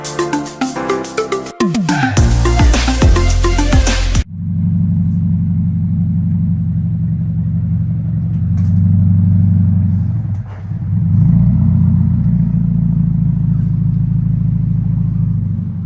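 A Subaru FRS with a welded differential: engine revs rise and fall in quick bursts, then settle into a steady, loud drone as the car drives off on its first test run.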